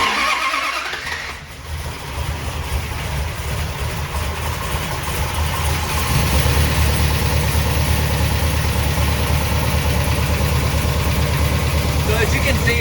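A car engine fitted with Holley Sniper 2 fuel injection cranks and fires, then settles into a steady, loud idle that lifts slightly partway through, with someone talking over it.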